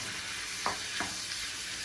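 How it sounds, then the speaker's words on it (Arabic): Squid sautés in a frying pan, a steady frying sizzle with a couple of brief stirring scrapes, fairly quiet and continuous, no voices. "انا نفضل نشحرو في المقله"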